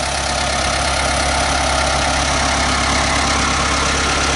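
A riding tractor engine idles loudly and close by, a continuous even rumble with no talking.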